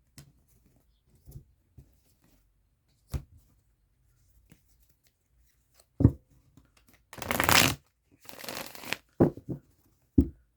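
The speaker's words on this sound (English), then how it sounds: "we're going to shuffle them again in front of you" Tarot cards are riffled and shuffled close by: scattered soft taps and handling noises, then two fuller flurries of quick card patter.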